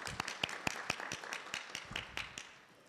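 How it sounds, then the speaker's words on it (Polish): A small group claps at a gallery opening, with distinct sharp hand claps in an uneven rhythm that fade near the end, fairly quiet and slightly distant. "Brawa."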